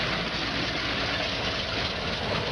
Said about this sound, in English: So they've actually converted trucks to run on burning wood.